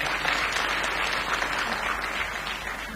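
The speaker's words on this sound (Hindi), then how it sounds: "एक बार पूरा सदन मुझे ताली बजा के आशीर्वाद दे" A full hall at a comedy event claps on request, a continuous broadband patter of hands at moderate level, steady and slowly fading toward the end.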